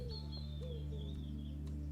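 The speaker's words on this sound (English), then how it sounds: "Lots of birdsong today." Outdoor birdsong: a few faint, thin whistled chirps and a drawn-out high call, heard distantly over a steady low hum.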